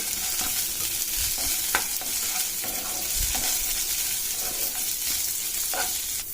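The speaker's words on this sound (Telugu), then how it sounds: "ఇప్పుడు మనం వీటిని కాస్త వేయించుకుందాము" Curry leaves, cumin and tamarind fry in a pan with a loud, continuous hissing sizzle, broken by occasional light scrapes of a spoon.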